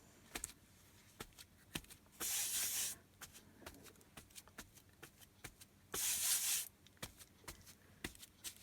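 Two short hissing bursts from a water spray bottle mist a little water onto wet paint on paper, each about half a second long and several seconds apart, with faint taps and rustles between them in a quiet room.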